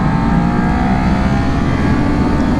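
A Kawasaki Z400 motorcycle engine drones steadily on a test ride, loud and close, a sustained hum with heavy wind rush and no clear gear changes or pauses.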